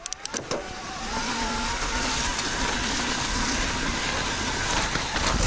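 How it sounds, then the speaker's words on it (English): A motorcycle rides along a slushy, wet road in freezing weather, with a dense, unbroken hiss of tire spray and wind that swells after a few sharp clicks at the start. "Oh, a little sloshy here."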